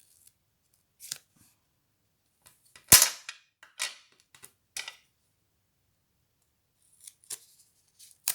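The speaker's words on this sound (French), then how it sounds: "on va découper, on va enlever ce qui est de trop" Scissors snipping away excess paper or card from a handmade diamond-shaped box, a few sharp close cuts and rustles scattered between stretches of silence, with one loud crisp snip near the start.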